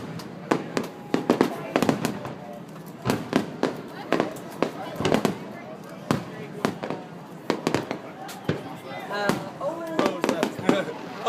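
Fourth of July fireworks bursting over Fort Myers Beach, a rapid irregular series of sharp loud bangs and crackles across the whole stretch, with crowd voices and talk mixed in beneath.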